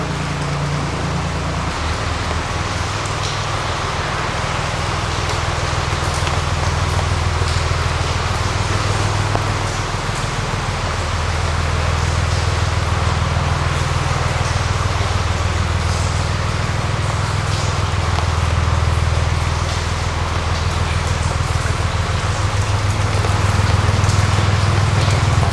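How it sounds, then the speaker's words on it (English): Water drips fall like rain into the canal inside a narrowboat tunnel, a steady hiss of patter heard over a constant low engine rumble throughout. "I can see the drips falling in the water ahead like rain"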